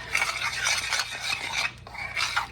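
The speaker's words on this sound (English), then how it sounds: "I love peppermint. All right, stir it in" Spoon stirring peppermint into thick chocolate fudge in a pot, a steady close scraping and swishing that pauses briefly midway before resuming, with no talk.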